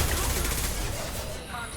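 Rapid gunfire bursts loudly in Mass Effect 2 combat, a dense fusillade of overlapping shots that tapers slightly toward the end.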